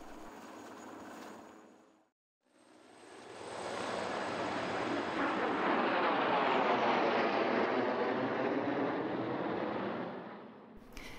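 French Air Force military helicopter flying close by, a loud steady rotor and engine roar that swells and holds after a brief silent cut, with no talk over it.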